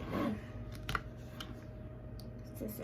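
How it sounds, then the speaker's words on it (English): Scissors snip at a package, several sharp scattered clicks and cuts, close and fairly quiet over a low background hum. "Scissors."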